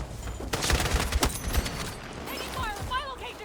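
A quick burst of rapid gunshots in the video game Battlefield 6 rings out, followed by fainter mechanical clatter and a brief high whine as the action dies down.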